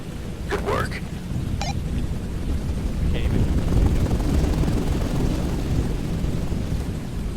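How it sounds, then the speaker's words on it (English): A helicopter arrives in the game Pressure as a heavy, rumbling low roar that swells slightly and stays constant, mixed with noisy wash like rain and wind, with a few brief higher tones and some voice over it. "A helicopter is inbound to bring you home."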